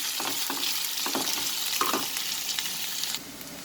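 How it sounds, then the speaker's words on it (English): Onion sautés in a hot pan with a steady, close sizzle, broken by soft scraping stir strokes repeated every half second or so, with no voices. "I will saute the onion till it becomes slightly translucent."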